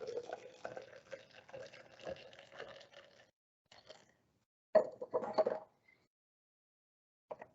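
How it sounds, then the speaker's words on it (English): Gatorade is poured into a 100 milliliter graduated cylinder, giving a faint, close trickle and splash that runs for a few seconds, then short bursts of liquid and a light clink of glass with quiet gaps between. "If I take some of this Gatorade and I pour it into the 100 milliliter graduated cylinder"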